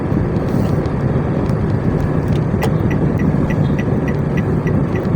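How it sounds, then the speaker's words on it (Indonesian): A manual car pulls forward just after an upshift into fourth gear, its engine droning steadily and loud from inside the cabin with road noise, while a few faint clicks tick along in the background. "kita tambah lagi kecepatan, gigi juga tambahkan lagi seperti ini ke gigi 4"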